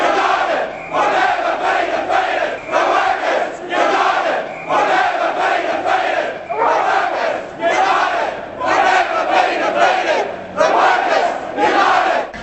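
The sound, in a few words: protest crowd chanting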